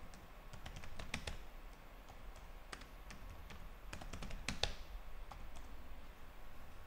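Keys clatter on a computer keyboard as a password is entered, quick irregular taps in short bursts over a steady background hiss, fairly close, with no talking.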